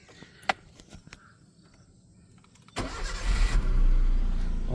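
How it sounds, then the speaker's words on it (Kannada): A Maruti Swift Dzire car engine cranks and starts, bursting into a loud steady idle after a few faint clicks and quiet background, close by. "ಈಗ ನಾವು ಗಾಡಿನ ಸ್ಟಾರ್ಟ್ ಮಾಡಿ ಇಂಜಿನ್ ನಾಯ್ಸ್ ಎಲ್ಲ ತೋರಿಸ್ತೀನಿ ನೋಡಿ"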